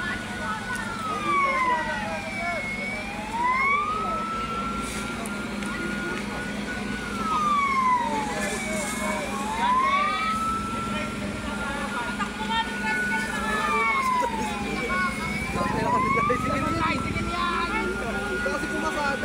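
A wailing ambulance siren rises and falls repeatedly, sweeping up and down in long cycles over constant traffic rumble and background chatter, at a fire at a DALI grocery store.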